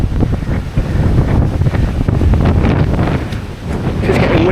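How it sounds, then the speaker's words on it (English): Loud, sustained wind buffeting a microphone outdoors on a very windy day near a parked van, a constant low roar with gusty swells and no clear speech. "Just getting windier."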